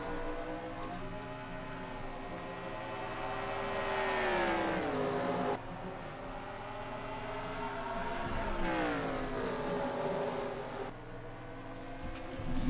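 Stock cars racing at Bristol in NASCAR Racing 2003, a steady loud pack of engines droning with rising and falling pitch sweeps as cars pass and shift, continuous throughout with no talk.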